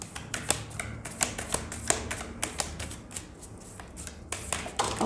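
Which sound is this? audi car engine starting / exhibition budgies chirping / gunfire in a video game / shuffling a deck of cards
shuffling a deck of cards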